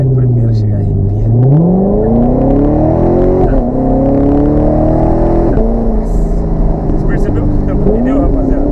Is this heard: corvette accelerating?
yes